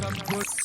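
Water splashing and pouring down indoors like rain from a plastic bottle with holes punched in it, a brief close spattering burst.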